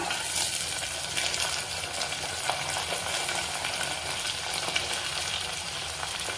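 Soaked peas tipped into a pan of frying onion and curry leaves, setting off a loud, steady sizzle and bubbling hiss with faint stirring scrapes, heard close up and without talk.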